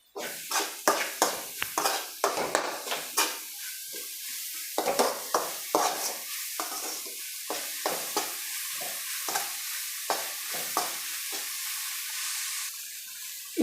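Vegetables for veg aloo kabab fried rice are stirred in a pan after salt is added, giving repeated scraping strokes of a spatula against the pan over a soft sizzle, fairly close, with no voices.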